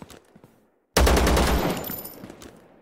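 Enemy gunfire in the video game Zero Sievert, a sudden loud burst of rapid shots that erupts after a quiet moment and rattles on for a while before fading slightly.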